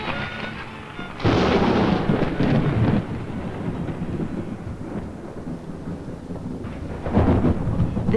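Loud rolling thunder from a lightning storm, with a heavy crack near the start that rumbles on and a second burst toward the end, over a steady wash of rain.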